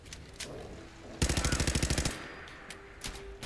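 A roughly one-second burst of rapid automatic gunfire in Fallout 4, about a dozen sharp evenly spaced shots, loud and close, from a cheap-ammo weapon with horrendous recoil, with quieter scattered sounds before and after.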